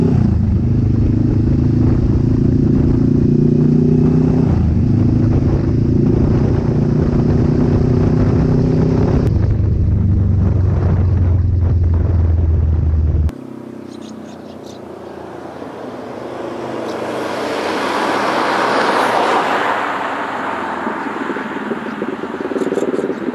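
A Kawasaki Vulcan S motorcycle engine drones steadily on a ride with low, rumbling harmonics, then drops away around the midpoint, leaving broad rushing wind and road noise that swells and fades.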